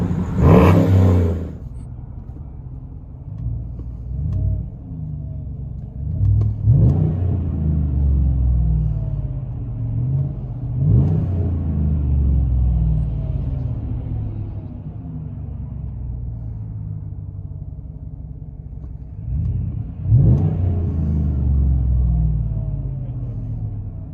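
A 2015 Chevy Silverado 5.3L V8 with Carven TR-Series dual exhaust rumbles loudly and close, with several sharp revs rising out of a deep, steady idle burble.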